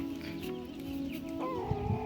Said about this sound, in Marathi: बघा आमच्या कोंबड्या